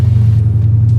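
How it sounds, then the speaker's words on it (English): A V8 muscle car engine idles with a deep, continuous low rumble, loud and close, steady for the whole second with no voices. "I enjoy this V8 Rumble and the power it has"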